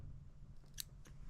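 Scissors trim material on a realistic grasshopper fly being tied, two faint, quick snips close by over a low, steady room hum.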